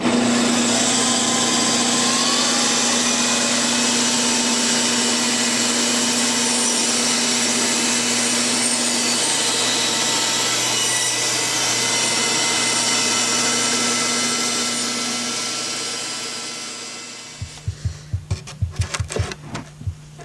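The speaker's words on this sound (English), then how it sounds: "using the bandsaw" A bandsaw trims a piece, giving a steady, loud whirring hum with a high tonal whine that runs for about seventeen seconds. It then winds down into a few sharp clattering knocks.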